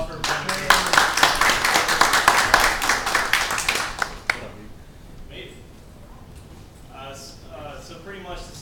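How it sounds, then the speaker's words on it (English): Audience applause at a presentation event, a dense burst of clapping for about four seconds that cuts off abruptly, followed by quiet room tone with faint voices. "Round of applause for Amazing."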